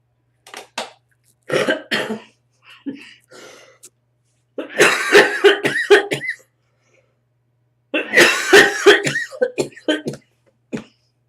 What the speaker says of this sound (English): This cough has come back to me with a vengeance.